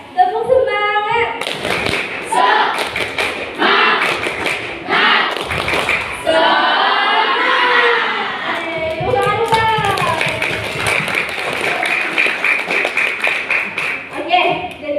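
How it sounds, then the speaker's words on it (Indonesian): Group rhythmic 'tepuk semangat' clapping chant at a community health session, patterned bursts of claps alternating with voices chanting and calling along, loud and close. "Kita tepuk semangat dulu lagi ya, biar tambah semangat ya"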